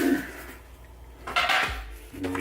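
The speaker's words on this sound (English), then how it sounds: "And the pans, maybe the crumb catcher." Metal oven pans and a crumb catcher being unpacked from a new second-generation June countertop oven, a few light clatters and scrapes of metal with rustling between them, close and fairly quiet.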